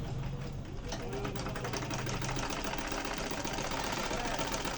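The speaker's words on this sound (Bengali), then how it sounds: "আমি এখন এই কাপড়টা সেলাই করে দেখাবো আপনাদেরকে যে সুন্দরভাবে সেলাই হচ্ছে কিনা।" A domestic sewing machine stitches a piece of fabric, its motor running in a steady, loud mechanical chatter throughout, close by, with a voice speaking over it.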